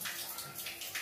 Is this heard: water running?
yes